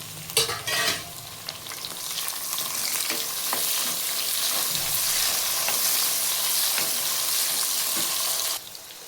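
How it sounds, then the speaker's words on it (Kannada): Chopped onion frying in a pan as capsicum and carrot pieces are tossed in, a burst of clatter near the start giving way to a loud, steady sizzle with stirring scrapes that stops abruptly near the end. "ಈಗ ಈರುಳ್ಳಿ ಚೆನ್ನಾಗಿ ಫ್ರೈ ಆಗಿದೆ ಇದಕ್ಕೆ ನಾನು ಕ್ಯಾಪ್ಸಿಕಮ್ ಮತ್ತು ಕ್ಯಾರೆಟ್ ಕಟ್ ಮಾಡಿ ಇಟ್ಕೊಂಡಿದ್ದೀನಿ ಎರಡನ್ನೂ ಹಾಕ್ತೀನಿ"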